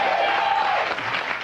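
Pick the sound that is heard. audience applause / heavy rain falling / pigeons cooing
audience applause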